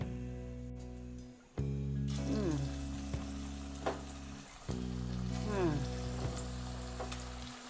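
Pennywort bonda frying in hot sunflower oil, a continuous close sizzle and crackle with a sudden onset, with stirring and bubbling surges twice as batter goes in, no talk.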